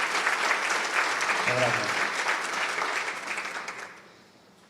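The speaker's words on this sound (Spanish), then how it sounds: "Bienvenido, el escenario es tuyo, un fuerte aplauso." A conference audience applauds as a speaker takes the stage, a dense, steady wash of clapping that fades out near the end, while someone briefly speaks a word over it.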